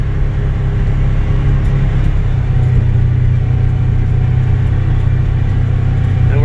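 A car drives up to a race finish line, its engine a constant loud low rumble throughout with no change in pace.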